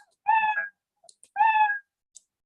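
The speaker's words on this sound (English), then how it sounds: "So I can play a sound, okay, meow" A cat meow sound effect played in the Scratch programming environment: two clear, close meows about a second apart, with faint clicks in between and after.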